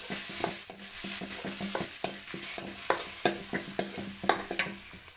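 Spices fry for a chhaunk tempering in a pan on a wood-fired chulha stove, giving a steady close sizzle with repeated light stirring scrapes and clinks of a spoon, and no talking.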